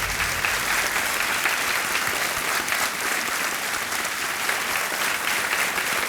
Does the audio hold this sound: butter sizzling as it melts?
no